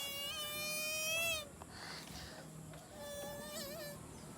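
A thin, high whining buzz wavers up and down at the start, then fainter buzzy tones come and go, like a small insect humming nearby.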